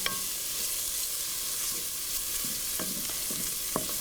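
Bacon sizzling and rendering its own fat in a pan without added oil, a continuous close crackling fry with a few sharper pops and spatula scrapes scattered through.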